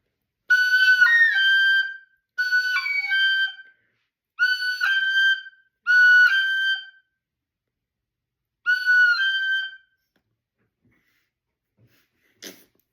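Five short separate notes on a whistle, each held about a second with a brief gap between, bright and close, followed by near silence and a faint click at the end.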